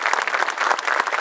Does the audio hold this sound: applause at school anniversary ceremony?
yes